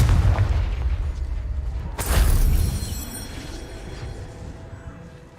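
A Confringo blasting spell explodes in Hogwarts Legacy with one loud, close, booming burst, then a rumbling tail that fades over a few seconds against low background rumble.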